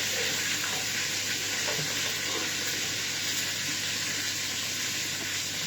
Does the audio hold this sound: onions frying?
yes